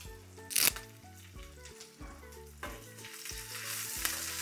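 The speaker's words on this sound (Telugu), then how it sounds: "తాలింపులో వేసి వేయించుకోవడం" Green chillies and curry leaves frying in hot tempering oil, a steady bright sizzle with stirring clatter and a sharp pop near the start, close by with no talking.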